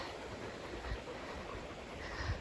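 A waterfall on a wooded trail among wild rhododendrons gives off a faint, steady rushing roar, an even broadband hiss with no other sounds over it.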